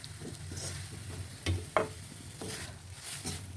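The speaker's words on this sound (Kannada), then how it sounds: "ಇದೆಲ್ಲ ಫ್ರೈ ಆಗಿದೆ, ಸಾಕು" Ingredients frying in a pan give a soft, faint sizzle, broken by a few sharp clinks and scrapes from stirring, with no talking.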